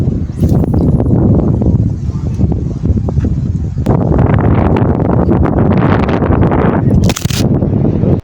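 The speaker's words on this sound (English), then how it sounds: "the wind is super high" Strong wind buffets the microphone on a lake shore, a steady, loud roar with gusty swells and rumbling that fills the whole stretch.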